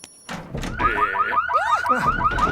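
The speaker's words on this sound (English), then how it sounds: "It goes off if someone tries to open the door." A cartoon door burglar alarm going off, a loud electronic siren with rapid repeating warbling chirps that sweep up and down continuously after a short thump at the start.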